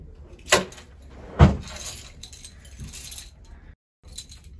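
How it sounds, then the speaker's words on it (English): A set of keys jangles in two bright metallic bursts, the second louder, followed by softer rustling and shuffling indoors before a brief silence. "We have the keys."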